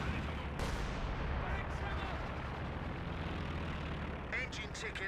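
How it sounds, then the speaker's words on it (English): Artillery barrage from Sexton self-propelled guns in Company of Heroes 2: a dense, continuous rumble of booming impacts and explosions holds steady and loud for about five seconds, with a few sharper bursts near the end. "Free Sexton barrage back here."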